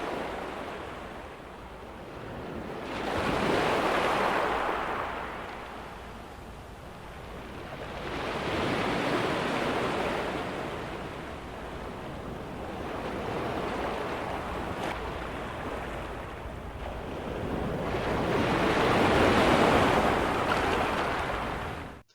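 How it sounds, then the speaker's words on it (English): Ocean waves break and wash on a shore in slow surging swells, each rush rising and fading over several seconds, repeating about four times with a constant hiss of surf between them. "This is the sound of a wave."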